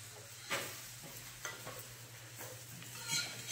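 Bread frying in butter in a pan, a faint low sizzle with occasional soft scrapes and taps of a utensil, quiet and without talk.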